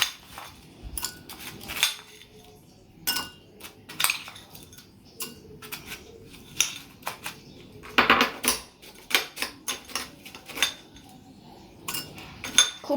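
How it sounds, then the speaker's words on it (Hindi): Crushed ice is scooped into a glass for a homemade mango mojito mocktail, giving repeated sharp clinks and crunchy rattles in irregular bursts, close up with short quiet pauses between scoops. "खूब सारी क्रश्ड आइस डाल दें ताकि एकदम चिल्ड इफेक्ट आएगा।"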